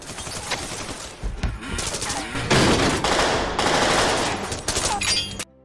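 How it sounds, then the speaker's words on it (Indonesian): Gunfire from a movie shootout between gangs of motorcyclists comes as dense, loud volleys of rapid shots and bursts that run almost nonstop and then cut off abruptly. "Datang lebih banyak lagi pemotor yang menembaki mereka baku tembak pun terjadi di antara pemotor Dukyu dan Yamura."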